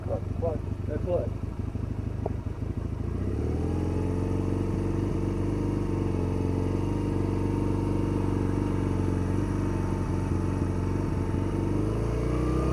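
A motorcycle engine starts up and then runs steadily nearby, worked with throttle and clutch, as a continuous loud drone that shifts slightly in pitch toward the end.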